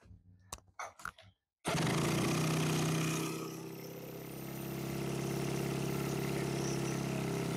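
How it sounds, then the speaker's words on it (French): A quad bike engine starts up after a few quick mechanical clicks and rattles, then settles into a loud, steady idle close by that swells slightly near the end. "le quad a démarré"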